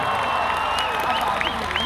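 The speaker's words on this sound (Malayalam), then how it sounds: "ശേഖരന് നല്ലൊരു കൈയടി എനിക്ക് കൂടെ" An audience claps for a singer at a live performance, a steady wash of applause with some cheering and faint background tones, fairly close and continuous throughout.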